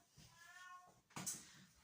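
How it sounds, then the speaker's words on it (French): A cat meows twice nearby, a drawn-out wavering cry followed by a sharper, louder one, with no talking. "Le chant si mélodique que vous entendez en fond, c'est le chat"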